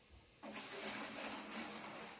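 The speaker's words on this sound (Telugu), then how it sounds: "సర్దుకొని పోసుకుంటున్నాడు అనమాట నీళ్లు" Water is poured from a bucket to rinse clothes, a sudden gushing splash that starts after a brief quiet moment and continues steadily, faint overall.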